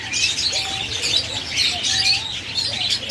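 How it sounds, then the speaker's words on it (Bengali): Diamond doves coo softly in a chorus, with repeated gentle calls and chirps overlapping against a light background hiss, at a bird sale. "দেখুন অসংখ্য পরিমাণ শীতল ঘুঘু রয়েছে দেখুন"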